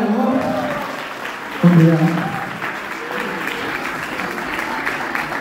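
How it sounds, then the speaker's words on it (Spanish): Applause from wedding guests for the bride and groom, Daniela and Pablo, at a reception at Espacio Marina, with a sharp burst of clapping rising near the middle over live talk and music. "Un aplauso para ellos, por favor."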